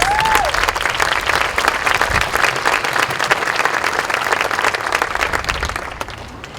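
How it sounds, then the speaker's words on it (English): An audience gives a loud, sustained round of applause at an auditorium naming ceremony, dense clapping from a crowd that holds steady and then begins to thin out at the very end. "If we can give a round of applause."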